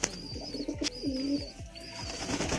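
Pigeons coo softly in their loft, a rhythmic series of low throaty calls repeating several times, with a faint high chirp mixed in, close by and fairly quiet.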